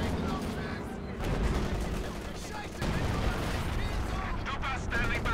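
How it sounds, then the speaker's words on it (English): A bunker busting artillery barrage in Company of Heroes 2 unleashes dense, continuous explosions and gunfire, with a rough rumbling texture and several bursts. A caster talks over the battle. "He's using the bunker busting barrage."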